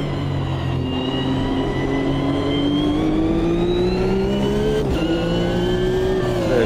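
A race car in the Automobilista 2 sim on a modded track, its engine note loud and close, climbing steadily in pitch, then dropping briefly at a gear change before climbing again.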